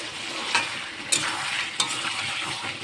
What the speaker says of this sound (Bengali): ভালো করে কষে নিয়ে